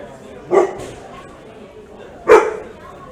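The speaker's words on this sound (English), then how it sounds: "Bit of dog barking action here between fights." A house dog barks twice between fights on a fighting island, two short sharp barks about two seconds apart at moderate distance, with quiet background in between.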